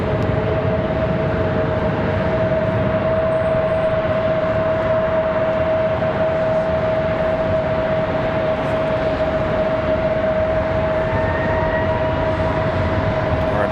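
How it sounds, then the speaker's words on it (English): A CRJ regional jet goes around above Charlotte Douglas International Airport, heard as a steady, fairly loud broadband engine roar that holds for the whole stretch, with a constant high tone running through it and no talking. "got another CRJ doing a go around over behind us"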